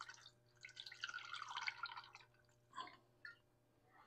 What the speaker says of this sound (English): So I'm going to pour me just a little bit off here to just go ahead and drink